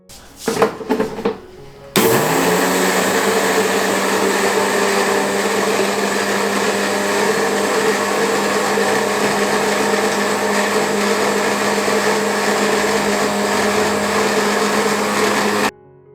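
An electric kitchen grinder whirs at high, steady speed while grinding coriander into powder, loud and close. It starts after a couple of seconds of faint handling noises and stops abruptly near the end.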